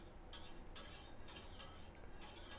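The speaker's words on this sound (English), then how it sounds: "We're going to stir that in." Milk for goat cheese being stirred after a couple of drops of rennet go in, a utensil scraping and clinking against the pot in several short bursts, close and fairly faint.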